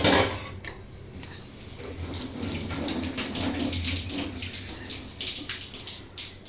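Items dropped into a wash basin under a running tap, a clattering splash at the start followed by steady water flow with light knocks and rattles of objects in the basin, close by.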